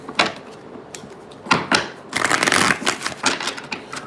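Tarot cards shuffled by hand in a quick papery riffle, close and loud, with bursts of rapid flicking separated by short pauses and a longer continuous run near the middle.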